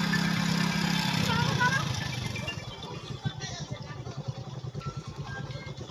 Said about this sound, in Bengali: একটা বাইক আরো বাইক আসছে।